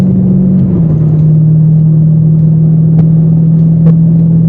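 Daily driver car, presumably a 392 Hemi, with a steady loud engine drone while cruising, a constant low rumble that dips slightly in pitch early on, plus faint road noise and occasional ticks.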